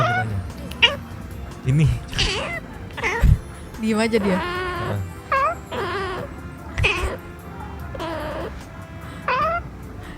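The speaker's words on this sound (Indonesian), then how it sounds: "Yang ngobrol tuh tiga kucing itu doang." Three cats meowing and caterwauling back and forth in a lively exchange of rising, wavering calls, some overlapping, with a person speaking briefly among them.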